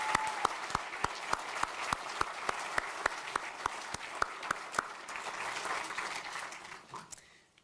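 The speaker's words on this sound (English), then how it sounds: "Let's give another round of applause for our inductees." A Hall of Fame athletics banquet audience applauds the inductees with sustained crowd clapping, overlaid by one regular loud clap near the microphone, and the applause thins out toward the end.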